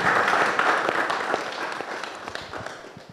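Warm audience applause at a Father's Day celebration hangout, a steady dense wash of many hands clapping that holds throughout and fades slightly toward the end, heard alone without speech.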